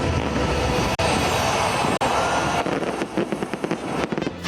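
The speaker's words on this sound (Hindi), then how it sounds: "आतिशबाजी देखने के लिए 10 लाख अफराद घरों से निकल आए" New Year fireworks burst over London, a loud, dense crackling barrage with sharp cracks about once a second, then breaking into scattered pops.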